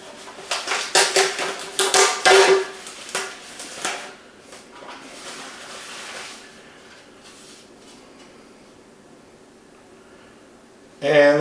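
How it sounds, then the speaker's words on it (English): The metal bottom pan of a Suvie kitchen robot is handled during unboxing. It gives a run of bright clanks and rattles over the first few seconds, then fades to quiet with faint background noise. "here's the bottom pan from Suvie."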